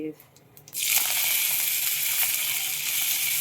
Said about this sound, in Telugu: రెండు ఉల్లిపాయలు పచ్చిమిరపకాయలు కరివేపాకు వేసేసుకుని వేయించేయాలి